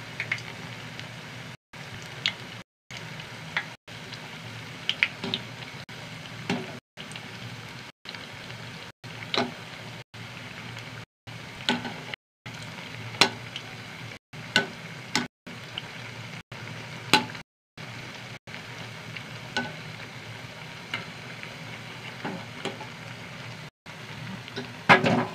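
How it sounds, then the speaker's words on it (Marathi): Bhaji fritters deep-fry in hot oil with a steady, soft crackling sizzle, fine pops scattered throughout, interrupted by brief silent gaps. "छान तळली जात आहे आणि खमंग मस्त भजीचा सोन सुटलेला आहे।"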